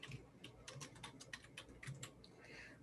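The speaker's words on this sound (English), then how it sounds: "Okay, so I'm typing names in there and now I'm finished." Quick, close, faint clicks of fingers typing on a computer keyboard, short bursts of keystrokes tapping out text with brief pauses, no voices.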